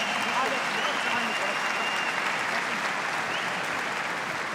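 A kickboxing event crowd applauds and cheers the fight winner in a dense, loud, continuous wash of clapping that holds steady from start to finish.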